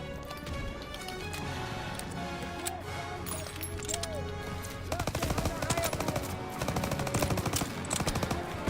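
Gunfire in the World War II shooter Call of Duty WW2, with rapid bursts of automatic fire and rifle shots over continuous battle noise and music, growing denser and louder in the second half.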